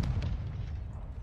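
A Semtex grenade goes off in Call of Duty as a brief, deep rumbling boom that is heavy in the low end and fades quickly.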